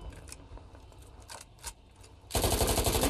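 Machine gun fire in the video game Squad: after quieter scattered shots and rattles, a loud, sustained rapid burst of automatic fire kicks in and continues to the end, close and dominant, with no talk.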